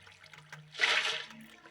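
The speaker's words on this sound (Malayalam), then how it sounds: "ഇനി നമ്മൾ ഇവിടെ ഒരു വാട്ടർ ബക്കറ്റ് ഒഴിക്കണം." A water bucket is emptied in the Minecraft video game, giving one short, soft splash that swells and fades within about half a second, fairly quiet and alone.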